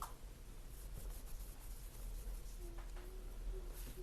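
A cotton swab rubs gunk off the pivot of a QSP Penguin pocket knife, producing a soft, close, continuous scratchy rubbing that stays steady throughout with no talking.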